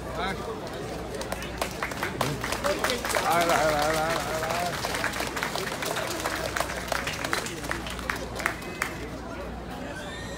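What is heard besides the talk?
audience applause welcoming Chairman Eric Chu at ceremony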